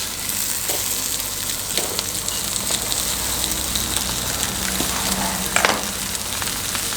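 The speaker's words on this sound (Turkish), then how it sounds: "sonra kızartma işlemini de yapacağız." Steady, crackling sizzle of lamb intestines frying on a hot grill for kokoreç, dense and continuous, with occasional sharper pops and scraping sounds.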